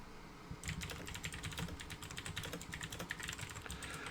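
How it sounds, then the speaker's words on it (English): Loud computer keyboard typing during an online fantasy football draft stream, a quick uneven run of close, sharp clicks and clacks heard alone with no talking. "My keyboard's extremely loud."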